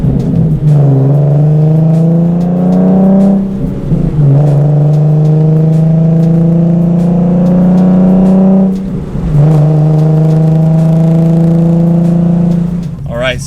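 Nissan 370Z with a loud aftermarket exhaust accelerating slowly, a loud steady engine drone rising in pitch in three long pulls, with short dips between them.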